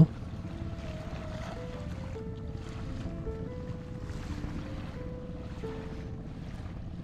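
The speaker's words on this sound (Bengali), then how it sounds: "একটা ট্রলার ঘাটে ভিড়েছে।" A fishing trawler at a landing ghat on the Bay of Bengal shore near Cox's Bazar, a low continuous engine hum with tonal drone shifts under wind buffeting and washing sea waves.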